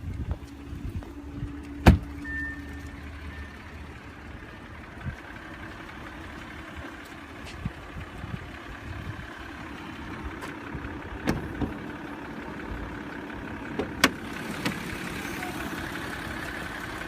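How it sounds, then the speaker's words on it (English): A 2017 Audi Q7's 3.0-litre TFSI supercharged V6 idles with the hood open, giving a steady low, even hum, with a few faint clicks over the top. "Under the hood is a 3-liter TFSI supercharged V6 engine with 8-speed Tiptronic automatic transmission"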